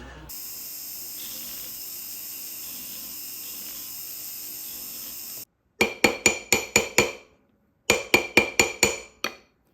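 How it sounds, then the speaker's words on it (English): After a steady mechanical hum, two quick bursts of sharp metallic taps ring out, each a rapid run of about six light hammer strikes on a platinum ring being resized. "do a little bit of hammering to make sure it's the right size"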